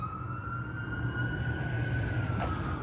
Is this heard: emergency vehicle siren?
yes